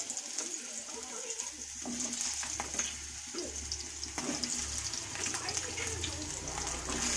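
Chopped potatoes dropped into a hot pan for a vegetarian cabbage curry, giving a steady soft sizzle with small clatters throughout, joined by a low background hum and faint bird calls.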